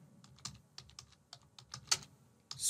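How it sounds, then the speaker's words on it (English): Typing an email on a computer keyboard: a quick, uneven run of close key clicks with a couple of sharper, louder taps, no voices present. "I'm done typing the email"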